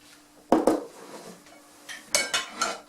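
Baking tin handled in a kitchen while preparing currant cake, with sharp metallic clanks and knocks, two close together then a few more, between quiet pauses.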